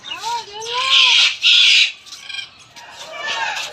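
Caged birds of many kinds at a zoo give loud squawking and whistled calls in several bursts, some sliding in pitch, with quieter stretches between.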